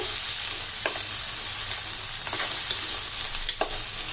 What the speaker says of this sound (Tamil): போட்டு நல்லா இது வதக்கி,